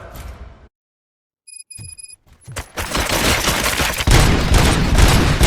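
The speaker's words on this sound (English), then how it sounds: "Gunshots? What's going on?" Loud, dense bursts of gunfire in the video game RoboCop: Rogue City crackle rapidly after a brief silence and a few electronic tones, building into a sustained, chaotic barrage of shots.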